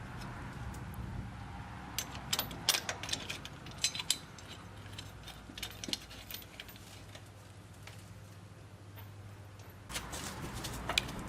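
Clicking and ratcheting of a torque wrench retorquing the spindle nuts on a HMMWV, with scattered sharp ticks and metallic taps in irregular clusters over a faint hum, quieter stretches in the middle.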